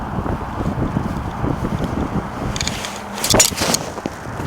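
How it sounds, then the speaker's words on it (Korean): A strong headwind on a golf course, blowing as a continuous rough rush of wind buffeting the microphone, with a brief louder gust near the end. "지금 앞바람 많이 불고요 오른쪽에서 왼쪽으로 부는 바람이 많이 불어요"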